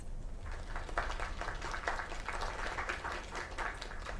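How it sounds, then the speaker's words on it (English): Audience applause in the video game Lake, a soft steady crowd clapping that swells in waves, moderately distant and alone without talk. "Another round of applause."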